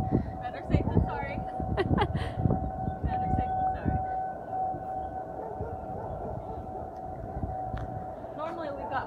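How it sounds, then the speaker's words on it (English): A steady, sustained tornado siren being tested holds in the background while people talk and move about nearby. "they're testing the tornado siren"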